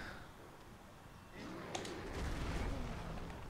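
A shockwave attack in the Dark Souls game with the Daughters of Ash mod bursts in partway through as a loud, rumbling boom over game noise and swells into a sustained roar.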